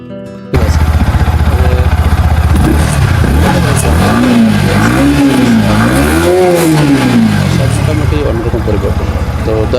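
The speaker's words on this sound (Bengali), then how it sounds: "ইঞ্জিন সাউন্ডটা একটু দেখে আসি স্টার্ট দিয়ে চলেন" A Yamaha MT-15 V2 2025 motorcycle engine starts up abruptly and is then revved several times, its pitch rising and falling in smooth swells before settling into a steady idle; the sound is loud and close throughout.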